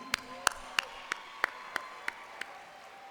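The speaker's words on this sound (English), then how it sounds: "let's give another round of applause to our color guard" Graduation audience at the 2015 Merritt College ceremony clapping for the color guard, heard as a faint, distant, evenly spaced series of about eight sharp claps in a quiet hall.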